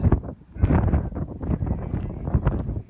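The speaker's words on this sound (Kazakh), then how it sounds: "Ақтөбеде боран қар жауып тұр." Strong blizzard wind with snow in Aktobe buffets the microphone in loud, rough gusts that rise and fall without pause.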